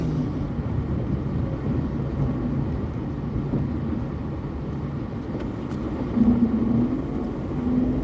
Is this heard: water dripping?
no